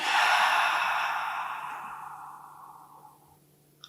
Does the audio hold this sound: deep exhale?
yes